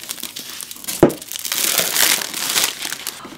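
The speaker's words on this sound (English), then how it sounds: "let's unwrap this plastic and take a look at her." Plastic wrap crinkles and tears as it comes off a boxed Play Arts Kai figure from Final Fantasy XV, a sharp rip near the start followed by steady close crackling and crumpling, no talk.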